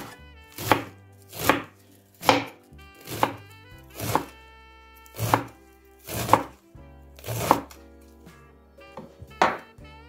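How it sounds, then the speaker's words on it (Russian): Napa cabbage finely chopped with a knife on a board, about a dozen crisp, evenly paced cuts heard up close with no talking. "Ее надо максимально мелко вот так покрышить. Нарезаем ее."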